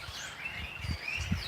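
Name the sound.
birds calling, likely sparrows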